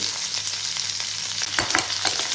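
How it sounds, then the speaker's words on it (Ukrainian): Steady sizzling of orange and chicken liver frying in a pan with honey, with a few louder crackles and stirring scrapes toward the end, close and continuous. "Поки смажиться в нас тут апельсин разом з печінкою"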